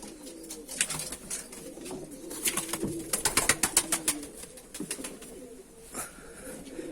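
Pigeons cooing close by in rhythmic, pulsing bursts, several birds overlapping, with soft shuffling between calls.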